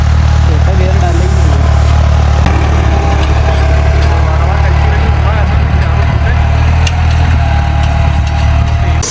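A tractor-style engine idles loud and close with a constant low chugging rumble while gears are shifted, and someone talks over it.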